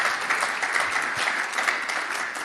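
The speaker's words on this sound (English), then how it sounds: "let's give a round of applause for our wonderful panelists" Workshop attendees give a warm round of applause for the panelists, many hands clapping in a dense, even wash that carries steadily throughout with no talking over it.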